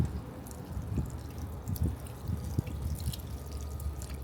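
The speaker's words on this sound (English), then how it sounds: "No, Koopy, we want water on the flowers, not tinkle." Water trickles and drips softly onto garden flowers, a faint patter of irregular droplets against a quiet outdoor background.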